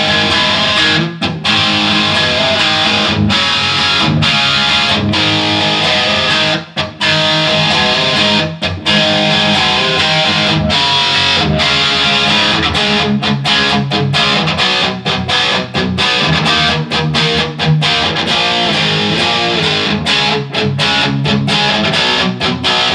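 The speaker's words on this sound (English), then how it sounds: "I might leave it around 1 and 2 as my main distortion" An electric guitar on a Flying V kit build plays through a distortion pedal with heavy saturation, strummed chords and riffs continuing for a long stretch, loud and close, with no talking.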